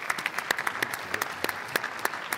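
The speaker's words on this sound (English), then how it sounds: "I think she and her team, of course, deserves a round of applause" Sparse clapping from a small group, individual claps distinct and spaced irregularly, fairly quiet and close.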